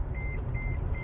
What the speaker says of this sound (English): You hear that beep going off?